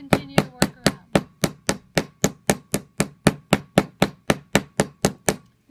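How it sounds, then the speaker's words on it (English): The flat side of a hammer taps the raised edges of a copper bezel set over wood, giving a quick, even series of about eighteen crisp, close knocks, with no talking. "just tap them slightly with the flat side of your hammer"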